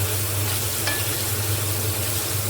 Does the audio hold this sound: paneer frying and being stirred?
yes